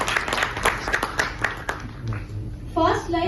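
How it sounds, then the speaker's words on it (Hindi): An audience at a theatre festival in Chandigarh claps in a brisk patter that fades after a few seconds, with voices talking over the applause toward the end. "जोरदार तालियां।"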